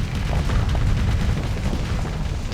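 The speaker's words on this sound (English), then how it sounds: "Atlas Mark II getting steadily overwhelmed by volume of firepower bearing down on it." Dense weapons fire and explosions pound an Atlas Mark II freighter under heavy missile attack in a modded Starsector space battle, a continuous loud rumbling barrage with overlapping booms and no talk.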